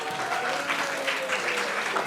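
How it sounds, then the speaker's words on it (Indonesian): Students at a school religious talk give brief applause, a soft, dense patter of many hands with faint voices mixed in. "Tepuk tangan dulu buat Alicia"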